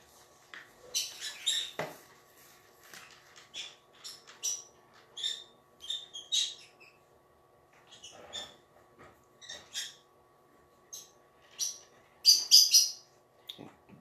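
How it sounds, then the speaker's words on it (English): Small birds chirp and squeak indoors in scattered short bursts, some sharp and high, against a quiet background. "Birds are a little chatty today."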